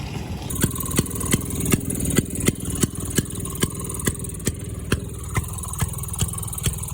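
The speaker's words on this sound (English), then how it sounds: "It's a boat engine." A boat engine fitted to a machine at a vintage motorbike club meet runs steadily at idle, close and fairly loud, with sharp regular ticks and pulses beating about twice a second.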